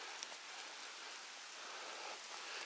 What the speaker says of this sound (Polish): coraz bardziej pada. Zresztą chyba